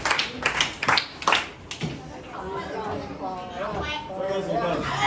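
A small group gives a few sharp, uneven bursts of hand clapping for a person, then the claps give way to nearby overlapping chatter and voices.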